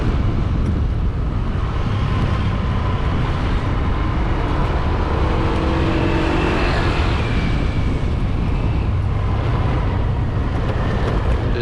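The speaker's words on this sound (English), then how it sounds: "Look at the traffic." Traffic on Sukhumvit Road in Pattaya produces a dense, steady rumble of passing engines and road noise, loud and continuous, with a few vehicles swelling and fading.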